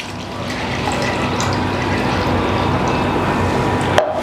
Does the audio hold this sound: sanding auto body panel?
no